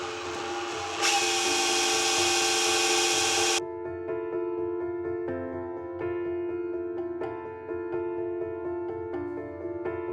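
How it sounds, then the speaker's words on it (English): A loud power drill whines steadily as it cuts a hole into a plastered bathroom wall, a harsh burst of grinding noise at the start giving way to a sustained high motor tone. "it's time to take the big drill out again and start cutting a hole in my beautifully plastered walls"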